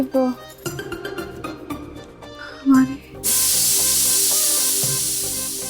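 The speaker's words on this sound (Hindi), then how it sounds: "कुकर की सीटी बच गई।" A pressure cooker on the stove lets off a loud, steady hiss of escaping steam that starts partway through and holds to the end, after an earlier stretch of busier mixed sounds.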